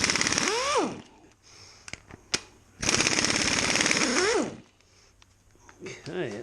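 Air-powered impact tool loosening tight bolts on a Jaguar MKII engine, two loud sustained rattling bursts with short clicks between them, and someone speaking over the gaps.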